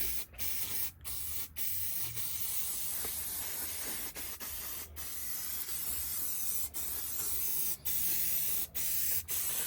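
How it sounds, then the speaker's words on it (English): Protective spray hisses from an aerosol can onto a Losi NASCAR RC car in a string of bursts with short pauses, close and fairly soft, with no talk. "So let me go ahead and spray it on the car."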